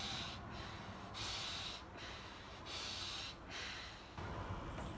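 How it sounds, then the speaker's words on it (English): Superventilation breathing, with deep full inhales drawing air into the lungs followed by relaxed exhales, the breaths close and airy and repeating in a steady rhythm with short pauses. "So I'm trying to get as much air into those lungs as I can in that full breath"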